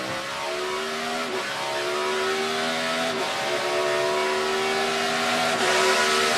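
A NASCAR Sprint Cup race car under Kevin Harvick's control screams through a qualifying lap at Sonoma's road course, its loud onboard engine note climbing steadily through the gears with brief dips at each shift.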